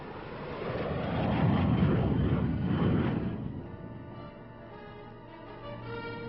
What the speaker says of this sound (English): Those jets didn't materialize out of thin air.